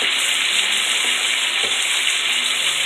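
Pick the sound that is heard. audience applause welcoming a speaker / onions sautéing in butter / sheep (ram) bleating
onions sautéing in butter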